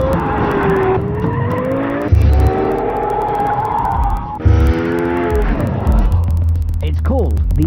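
A Lexus LFA sports car skids its tires in a loud, sustained screech with engine note sliding up and down, interrupted by brief thumps, while someone talks over it.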